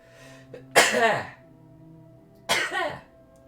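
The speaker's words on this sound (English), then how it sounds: "I think we should do a score of how many times I'm going to sneeze tonight." Two sharp, loud sneezes burst out close to the microphone, the first with a short breathy intake before it and the second following about two seconds later, with quiet room tone between them.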